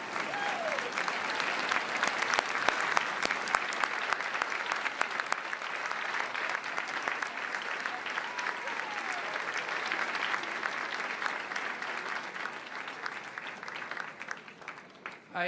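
Audience at a Saint Mary's University of Minnesota commencement convocation applauding families and supporters, a steady, dense wash of clapping that holds for the whole stretch before tapering at the end.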